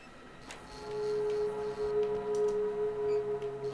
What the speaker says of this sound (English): There's constantly like a printer sound back here